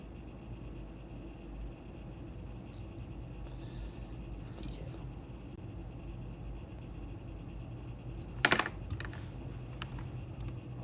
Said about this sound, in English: when I come out of sculpt mode by pressing tab on my keyboard and into edit mode